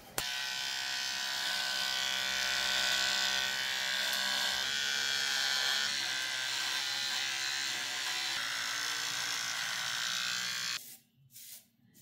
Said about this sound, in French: Tout de suite, le rasage.